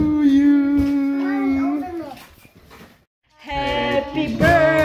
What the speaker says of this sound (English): Wow, you have a dog.